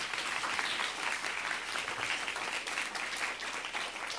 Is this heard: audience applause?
yes